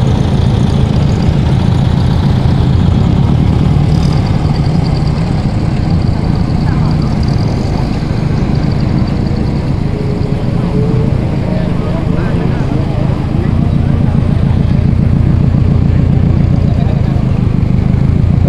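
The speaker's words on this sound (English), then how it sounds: "I love the engine rumble from the EGs in the Subarus." Subaru EG engines give off a steady, deep low rumble at a car meeting in Bangkok, loud and continuous under a busy crowd murmur.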